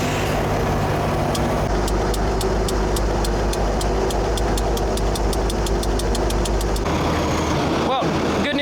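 A truck engine idles near a mobile crane on a work site, holding a steady low rumble with a regular ticking knock. A voice talks over it, and the engine note changes near the end.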